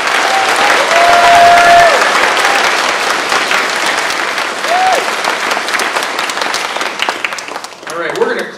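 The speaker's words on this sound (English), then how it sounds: "So give them a round of applause, please." An audience at an area band concert claps loudly and continuously for the student band, with a few whoops and cheers riding over the applause before it thins near the end.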